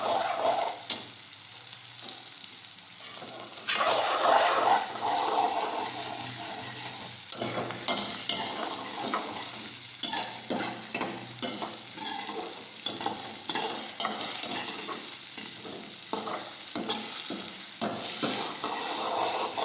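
Chopped tomatoes are sautéed in a pan while making an urad dal curry, a close sizzle broken up by frequent scraping stirs of the spoon that come in a loose, repeating rhythm.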